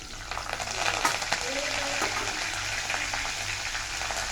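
A steady, crackling sizzle of curry leaves frying in hot oil with mustard seeds and cumin, with a few sharper pops near the start.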